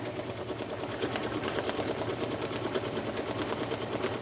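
Embroidery machine stitching a cap at 650 stitches a minute, a fast steady mechanical rattle of rapid needle strokes, close and continuous with no pauses.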